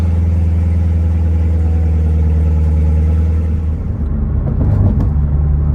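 A Corvette engine runs steadily on an early-morning drive, its deep, loud drone constant for several seconds before easing slightly, with no talk over it.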